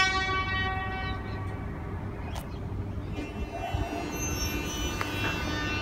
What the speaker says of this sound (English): And that Flinders Street service is now leaving.